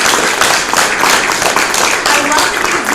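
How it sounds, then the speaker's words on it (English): An audience applauds at the close of a talk, a dense, steady wash of many hands clapping at once that holds at full strength from start to finish. "Give yourselves a round of applause."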